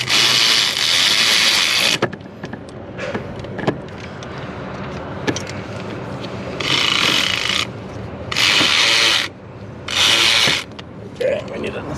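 A ratchet with a 13 swivel socket tightens fuel system bolts on a Chevy Duramax, giving several bursts of rapid, close clicking and rasping separated by short pauses, with softer handling noises between.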